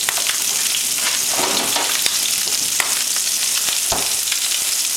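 Sockeye salmon fillets frying skin side down in a pan, a loud close, continuous crackling sizzle with small pops throughout.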